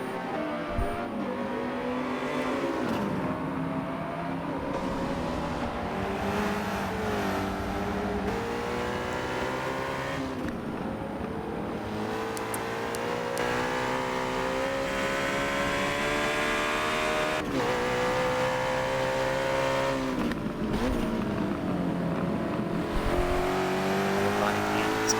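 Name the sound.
onboard McLaren race car engine at Laguna Seca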